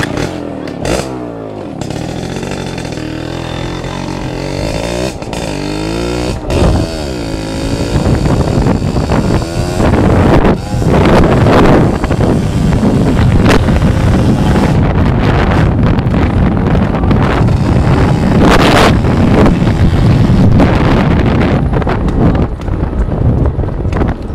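A Suzuki X4 or Raider 150 motorcycle revs with rising engine pitch, then rides off under heavy, loud wind buffeting on the microphone that largely masks the engine.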